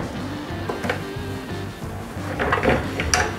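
A beer keg slides out of a Philips Perfect Draft home draught machine with a few close plastic scrapes and clunks near the end, over a low steady background drone.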